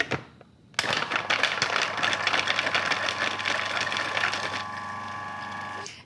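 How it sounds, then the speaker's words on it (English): A food processor motor whirs loudly as it chops garlic, starting abruptly after a brief quiet and running as a steady buzzing drone with rattling blade chatter, then settling to an even hum near the end; no talking. "I'm just going to bung those in the food processor first and run the motor so that the garlic definitely"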